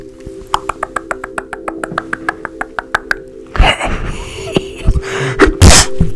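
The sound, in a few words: sneeze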